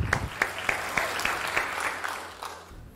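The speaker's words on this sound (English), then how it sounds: "with the warmest applause possible, please welcome Dr. M.I. Sahadulla" A crowd gives warm applause as Dr. M.I. Sahadulla, Group Chairman and Managing Director of KIMSHEALTH, is welcomed at a brand reveal function, dense clapping with a few sharp louder claps early on, fading toward the end.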